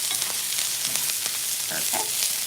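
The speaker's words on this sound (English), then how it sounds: "Okay, let's give these onions a nice toss." Diced onions sizzle steadily in a hot pan as they are tossed, a bright continuous hiss with a few soft clatters of movement and no talking.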